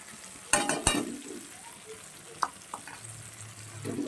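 Ground spices, including Kashmiri chilli, cumin and coriander powder, sizzle and fry in hot oil in a pan, with a steady close crackle and a couple of louder bursts of stirring early on.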